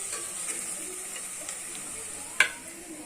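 Potato, cauliflower and peas are stirred into hot oil with tomatoes for veg biryani, with a steady soft sizzle, faint scraping and one sharp clink of a utensil.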